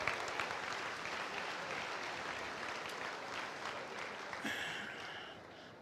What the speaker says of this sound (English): Let's give all those folks that produce food for the world a round of applause.